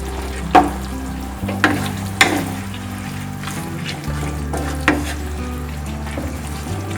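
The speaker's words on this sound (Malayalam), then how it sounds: "ഈ വെള്ളമെല്ലാം നന്നായിട്ടൊന്ന് നല്ല ഹൈ ഫ്ലെയിമിലിരുന്ന് തിളക്കണം." Water and sauce for Kerala-style dragon chicken boil and sizzle hard over a high flame in a pan, a steady bubbling hiss broken by several sharp clinks of a stirring spoon.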